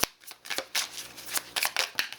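Aboriginal dreaming oracle cards being shuffled by hand, a run of quick papery riffles and slaps in an uneven rhythm, close and fairly soft, with no talking.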